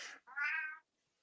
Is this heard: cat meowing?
yes